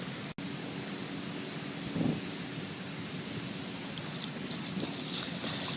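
Fresh spring-fed water of Eli Creek on Fraser Island flows with a soft, steady rushing wash, faint and continuous, with a few slight rustles over it.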